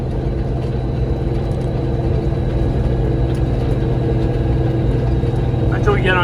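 Steady, loud low engine rumble and road noise from a truck cruising on the road, continuous throughout with no talk.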